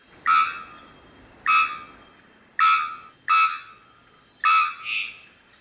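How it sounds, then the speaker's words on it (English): A three-wattled bellbird sings five sharp, metallic bonk-like notes, clear and ringing, spaced about a second apart against a faint background hiss, the last note followed by a softer echoing tone. "The unusual song of the three-wattled bellbird, from which the species gets its name, resembles metal being struck"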